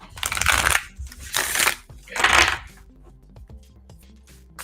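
Tarot cards are shuffled by hand in three close, crisp riffling bursts, each a quick papery flutter, with quieter card handling and soft taps afterward.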